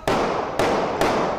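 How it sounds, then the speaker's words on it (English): Gunshots near Seattle's CHOP zone, caught by a live stream camera just before 3 a.m.: four sharp, loud reports in a fast, slightly uneven sequence, with no voices. "More than a dozen shots are heard."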